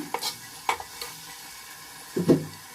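Masala frying in a pan for chicken biryani, heard as a few soft scraping stir strokes and light clicks with a faint sizzle underneath, fairly quiet and sparse.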